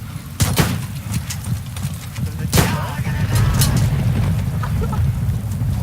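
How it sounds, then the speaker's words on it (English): Gunfire in the survival video game DayZ: a few sharp shots and a heavier boom ring out amid game ambience, while a panicked player's voice talks over the scene. "Why are you shooting? Don't shoot!"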